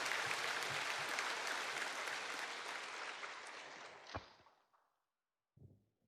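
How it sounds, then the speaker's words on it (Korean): Church congregation applauding to welcome a speaker to the front, a dense, close burst of clapping that gradually thins and fades, followed by a brief pause and a faint stir. "우리 박수로 환영하겠습니다"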